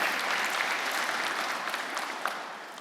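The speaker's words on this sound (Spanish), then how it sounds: "denle un aplauso" An audience at a Sunday church gathering applauds warmly, a sustained, even patter of many hands that slowly tapers in loudness over a few seconds.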